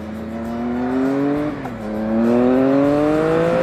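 A Triumph 1050 Speed RS motorcycle engine revs up in a rising drone, dips briefly at a gear change, then climbs again louder and harder. It runs close and alone, with no talk.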